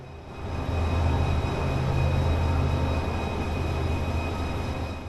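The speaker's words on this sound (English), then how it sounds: "you can hear the engine of the diesel locomotive hauling our train." A steady, low diesel locomotive engine drone rumbles continuously beneath constant rolling train noise, heard from inside a carriage a couple of carriages back at moderate loudness.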